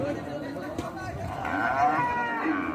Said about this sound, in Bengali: এই যে আরেকটি গরু